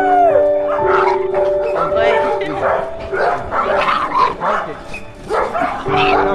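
Several dogs at a petting zoo that keeps 22 dogs bark and yip excitedly, close by and overlapping, while people talk and exclaim over them.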